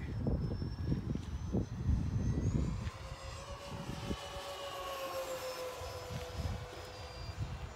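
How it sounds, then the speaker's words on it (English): An electric model Beechcraft airplane makes a high-speed pass with a thin, steady motor whine that shifts in pitch as it goes by, heard at moderate distance over low wind rumble. "So you're going to do a high speed pass?"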